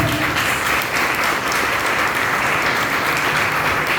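Congregation applauding in church during a sermon's closing, a dense, steady wash of clapping that fills the whole stretch at even loudness, with no break and no voice standing out.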